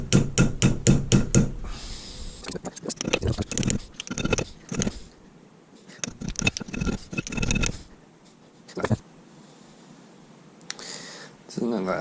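Sharp metallic taps of a hammer striking a Mazda 2 cold air duct bracket laid on a block of ice used as an anvil, arriving in quick irregular bursts between quiet gaps, with a voice speaking now and then.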